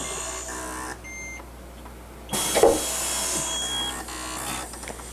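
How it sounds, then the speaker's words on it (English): A Hotronics Air Fusion heat press preheating a garment: short electronic beeps and a low mechanical hum, then a sudden hissing burst as the press closes, fading to a steady whir. "Once I have the garment loaded, I can preheat it for a few seconds to remove any of the moisture and wrinkles."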